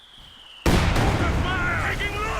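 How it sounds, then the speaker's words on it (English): Mortar shells exploding in Company of Heroes 2: a sudden loud blast followed by a rumbling, crackling tail of debris and battle noise, with a faint tone before the impact. "He is bombarding the area, it would seem, with his mortar."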